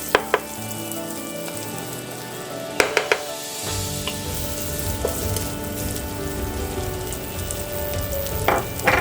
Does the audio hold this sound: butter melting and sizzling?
yes